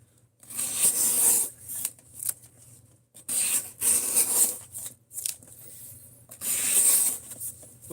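Knife blade sharpened on a fairly coarse ceramic stone, repeated rasping strokes in bursts of about a second separated by short quiet gaps, close and moderately loud.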